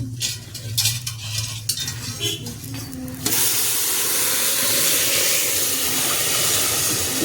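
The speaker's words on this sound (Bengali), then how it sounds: "এর মধ্যে জলটা অ্যাড করে দেবো" Hot water poured into a cooking pot: stirring and utensil clatter give way at once to a loud, steady hiss of steam that holds to the end.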